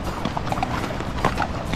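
Horse walking downhill on a muddy trail in the Cocora Valley near Salento, hooves clip-clopping in a steady, close rhythm over ambient outdoor noise.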